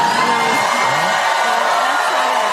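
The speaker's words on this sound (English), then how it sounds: "And you listen to the crowd erupt in cheers." A studio audience cheers and whoops at a political talk show, a dense, steady roar of voices with scattered shouts running loud throughout.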